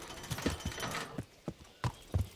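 Horse hooves clip-clop in Kingdom Come: Deliverance, a handful of uneven, fairly close footfalls spaced across a couple of seconds with no talk over them.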